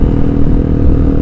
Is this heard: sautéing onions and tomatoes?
no